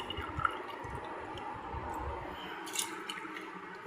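Mixed lentils slide into spiced cooking water in a pot, giving soft wet splashes and squishy drips over a low, even murmur.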